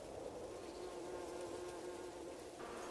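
Bees drone steadily among flowers in a continuous close buzzing hum that stays loud and even throughout, with no other sounds and no speech.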